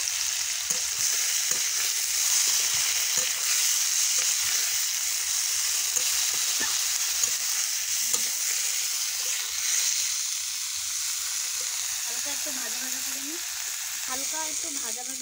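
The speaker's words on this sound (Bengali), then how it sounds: "হালকা একটু কড়াইতে নেড়ে চেড়ে" Boiled cauliflower stalks frying in oil in a kadai and being stirred, a continuous loud sizzle with occasional scraping stirs, and a soft voice talking briefly toward the end.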